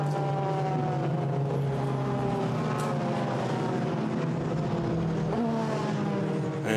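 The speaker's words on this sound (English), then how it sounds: "as we watch his car make its way back to the pit lane" A Formula 3 race car at the Portimao circuit cruises back to the pit lane after a European Championship race, its engine a steady moderate drone with pitch shifts as it changes gears, heard alone without talk.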